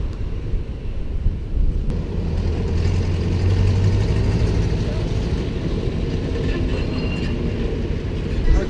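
A deep, steady ferry engine rumble drones throughout, heavy and close, with gusts of typhoon wind buffeting the microphone.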